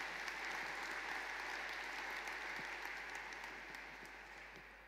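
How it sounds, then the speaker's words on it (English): Graduates and guests applaud at a university graduation ceremony, a broad, steady wash of clapping from a large hall that slowly fades toward the end. "A round of applause"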